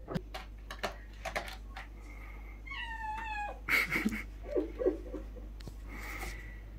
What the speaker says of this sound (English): I just said, Dana White, I just now picked up a Maine coon kitten